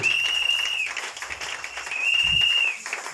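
Congregation applause at a French-language church service, a steady wash of clapping with a sustained high tone running through it for about three seconds, with no speech.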